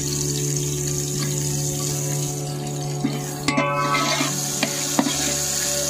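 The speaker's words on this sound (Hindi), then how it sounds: "ये तेल गरम हो चुका है, डाल दिया हमने प्याज ऑनियन।" Chopped onion dropped into hot oil sizzles with a steady, close frying hiss while preparing a dry boneless chicken chest dish, with scattered clicks and scrapes of stirring near the end.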